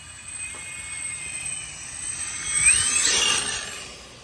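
Vitavon Axial SCX6 8S RC car motor at full throttle, a thin high electric whine that rises steeply in pitch and swells louder around the middle before easing off, heard outdoors without talk.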